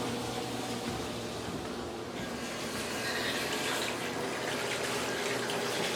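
A cloth is washed under a running tap in a sink, with a steady hiss of flowing water and a slight shift in tone partway through as the cloth moves under the stream.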